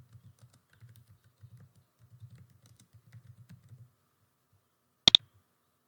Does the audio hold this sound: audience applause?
no